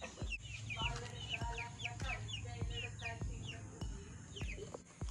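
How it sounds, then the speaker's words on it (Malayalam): Hens cluck and squawk close by in a backyard coop, with repeated short calls overlapping over a few seconds amid soft background noise and sharp knocks. "ആണ്ട നമ്മുടെ കോഴികളൊക്കെ."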